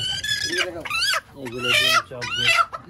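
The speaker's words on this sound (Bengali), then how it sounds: "এই যে মুরগি ডিম পারতেছে" Desi hens at a poultry farm where they are laying eggs, giving loud, repeated clucking and cackling calls in several close bursts, with a short quiet gap between them.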